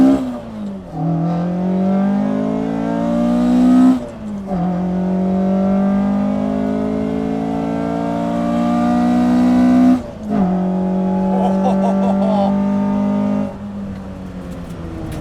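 Manual sports car engine revving hard while driving on an open road, rising through the gears in long climbing pulls broken by quick shift dips; loud and steady from inside the car, with no talk.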